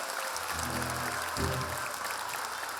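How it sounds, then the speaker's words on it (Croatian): Audience applause rolls steadily through a children's concert hall, a dense wash of clapping at even volume, with a sung or spoken voice briefly rising over it. "Jedan aplauz za vas, bravo, prijatelji."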